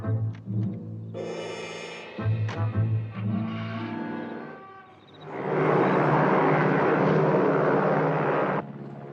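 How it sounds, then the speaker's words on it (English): A powerful propeller airplane in flight, its engine first droning with a low hum, then rising into a loud, steady roar that holds for several seconds before cutting off. "Very powerful plane."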